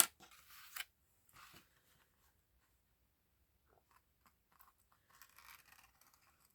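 Scissors snip through paper and fabric while making a file folder journal cover, a few quiet close crisp cuts separated by pauses of near silence.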